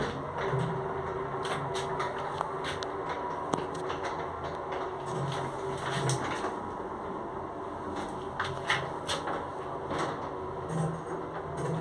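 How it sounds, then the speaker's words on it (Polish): Ride in a pre-war Otis elevator in an old Łódź tenement, modernized by Zremb, with a continuous mechanical rumble and hum and scattered clicks and rattles from the car and doors. "Jedziemy przedwojenną windą Otis w kamienicy przy ulicy Narutowicza 75B w Łodzi."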